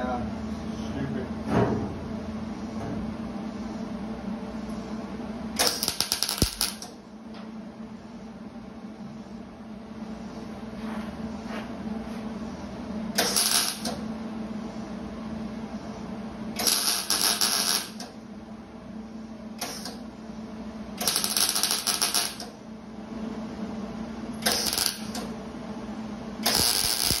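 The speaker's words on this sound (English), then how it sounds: "Welding with such low voltage." Short bursts of low-voltage welding on a 53 International truck crackle and sputter against a steady background hum, several separate passes spread through the clip, with people talking at times.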